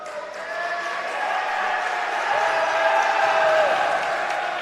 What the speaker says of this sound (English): You can hear the Rowdies cheer